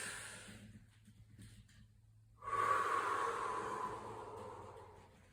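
A Pilates instructor takes a quiet breath out and then a long, audible breath in during a mat exercise, the inhale rising suddenly and fading slowly, close and soft.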